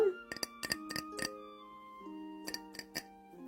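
Light, sharp taps and clinks on a pane of glass covering an entrance, coming in quick clusters separated by pauses, faint and close over a soft background tone.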